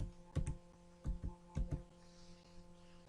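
The tree command is typed on a computer keyboard: a few quick, light key clicks in small bursts with short pauses, close and quiet over a faint electrical hum.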